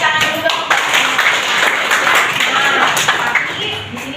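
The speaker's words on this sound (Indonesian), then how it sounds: "beri tepuk tangan dulu dong" Students in a classroom clap together, a dense, fairly close burst of applause lasting a few seconds and tapering at the end, with a voice talking over it.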